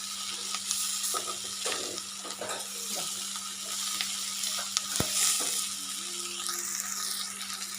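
Capsicum palya is stir-fried in a pan with a continuous close sizzle. Scraping and stirring strokes run through it, along with a steady low hum and one sharp knock partway through.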